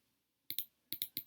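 Five crisp computer mouse clicks, arriving in two quick pairs and then one more, close and distinct in an otherwise quiet room.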